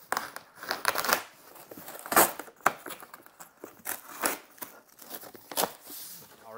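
A heavy-duty cardboard shipping box for a Mango Power E is cut open up close, with irregular bursts of tearing, crinkling and scraping cardboard and a few sharp rips.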